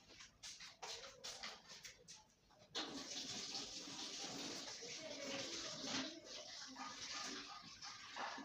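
Hands are washed under a running tap in a home kitchen during cake decorating: a few seconds of quiet shuffling, then a steady, soft stream of water splashing.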